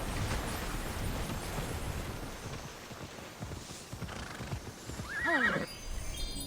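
A horse in the Immortals Fenyx Rising video game gallops with continuous hoofbeats under ambient noise, then lets out a sharp neigh near the end, fairly loud and close.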